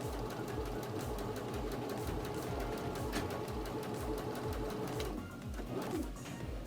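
A sewing machine stitching quilt block pieces along a marked line for a table topper, running in a fast continuous close whir before briefly slowing, with a soft cooing bird faintly in the background.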